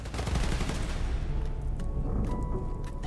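Rapid bursts of gunfire rattle in a Spider-Man: Miles Morales game scene, dense and loud for the first second or so, then thinning into scattered shots and mechanical clanks.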